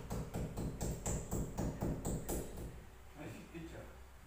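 A hammer drives a nail into a concrete wall to hang a calligraphy panel indoors, about ten sharp, evenly spaced blows over two and a half seconds that then stop, leaving quieter room noise.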